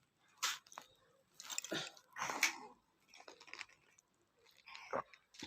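Close, wet crunching as someone chews gupchup (pani puri), with several uneven bites and squishy munches spaced across a few seconds and no talking.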